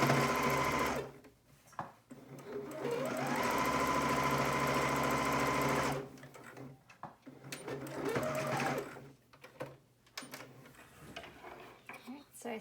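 A serger sewing machine stitching the edge of a fabric face mask, steady rapid whirring runs in several bursts with brief pauses between, at close range.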